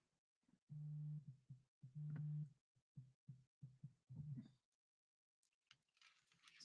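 A phone gives an emergency alert as a series of loud, low buzzing pulses in uneven bursts, then goes quiet and is followed by faint handling noise.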